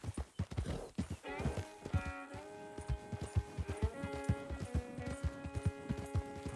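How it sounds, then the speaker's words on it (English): A horse in the video game Red Dead Redemption 2 walks with steady, rhythmic clip-clopping hoofbeats, close and moderately loud, while a sustained tonal sound plays underneath. "I think that is a horse."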